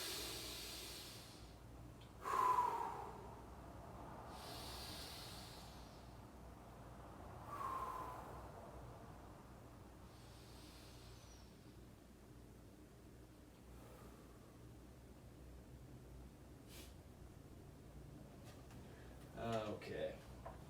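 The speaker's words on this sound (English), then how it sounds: "I'm gonna do for some quick breaths because I did a lot of talking" Several quick, deliberate breaths taken before a lift. They come as faint, soft bursts of air, spaced a few seconds apart, in a quiet room.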